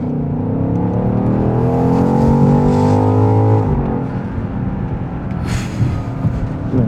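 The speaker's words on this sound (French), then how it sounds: "décollage immédiat. Pour une première grosse accélération" BMW XM, a 653 hp all-wheel-drive hybrid SUV, accelerating hard in Sport Plus mode near Marrakech: a loud, sustained engine roar rising steadily in pitch through one long pull, then dropping back as the revs fall.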